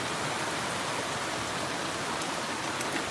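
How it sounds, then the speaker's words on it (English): Heavy rain pours down in the Philippines on a morning after several sunny days, a dense, loud and unbroken hiss of drops striking surfaces nearby, with no voices. "So we're probably overdue for some rain. That's why it's coming down hard this morning."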